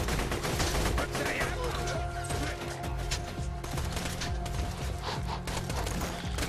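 Dense, rapid gunfire in the video game Borderlands 2, loud and continuous bursts with clicking weapon mechanisms and scattered voice sounds over the barrage.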